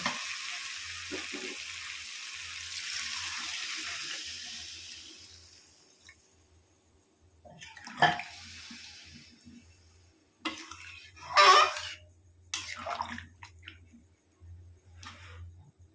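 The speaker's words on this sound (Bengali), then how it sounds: "এবার আমি দিয়ে দেবো জল" Water poured into a pan of small potatoes being fried with spices for aloo dum: a steady hiss that gradually fades, then a few sharp splashy clatters and bursts of sizzle near the end.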